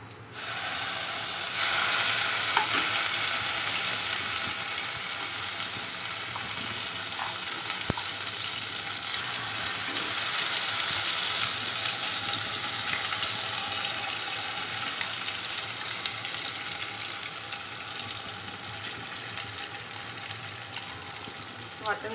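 Ground masala paste for dum aloo sizzles and crackles in a hot pan, a steady frying hiss with scattered pops and faint scraping, continuing throughout.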